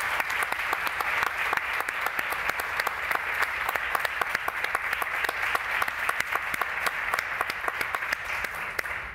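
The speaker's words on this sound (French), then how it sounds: "vous pouvez les applaudir" Steady applause from an audience for a panel of two commissioners at a talk on rights of access to information, crisp individual claps forming a continuous even roar throughout.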